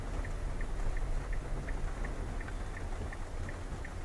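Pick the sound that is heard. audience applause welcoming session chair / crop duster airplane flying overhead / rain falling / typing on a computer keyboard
rain falling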